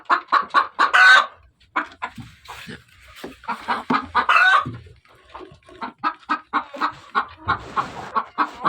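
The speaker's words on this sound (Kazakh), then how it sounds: "тауықтар туып жатыр." Hens in a chicken coop cluck loudly and close by in quick bursts of repeated calls, separated by brief pauses, with no talking.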